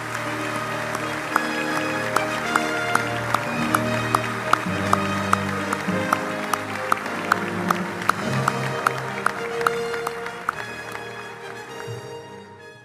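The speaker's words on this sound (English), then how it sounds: "Let's have one more round of applause to honor these true American heroes." A large conference audience applauds steadily for a long stretch, dense clapping over music with regular percussive beats, loud and sustained before tapering off at the end.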